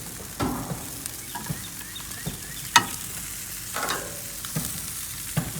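Bone-in marinated chicken drumsticks sizzling on a grill, a constant crackling hiss broken by several sharp clacks and scrapes as they are moved, without speech.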